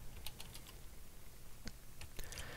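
Typing on a computer keyboard, with scattered bursts of quick keystrokes clicking close by and a short pause mid-way, heard alone against a faint room hum.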